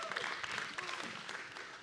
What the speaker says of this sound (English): So y'all give them a hand clap.